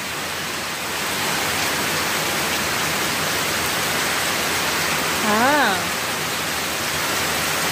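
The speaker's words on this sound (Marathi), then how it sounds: "वा, छानपैकी पाऊस येऊ राहिला." A heavy, continuous rain shower hisses outdoors, swelling slightly after the first second, and a short spoken syllable rises over it near the end.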